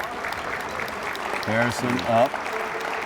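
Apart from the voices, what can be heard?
crowd applause at a girls' basketball game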